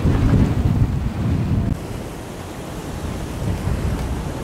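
Heavy wind roars across the microphone over rushing, churning North Atlantic waves aboard a sailing boat between the Azores and Portugal, a loud, steady rough-sea wash with no voices.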